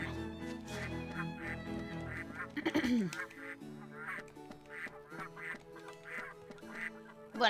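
Ducks quack in the role-playing video game Baten Kaitos, a string of rhythmic nasal quacks repeating over soft background music, moderately quiet and without speech.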